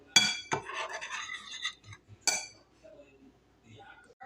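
Dry ingredients for sweet potato bread being combined with the wet mix in a larger bowl, bringing sharp clinks of a utensil against the bowl and light scraping, with a voice speaking between the clatter.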